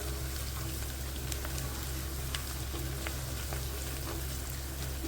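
Onion and garlic fry in a pan for a Punjabi potato and capsicum curry, giving a steady, even sizzle with faint crackles and a low hum under it, and no voices.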